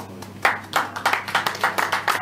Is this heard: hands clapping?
yes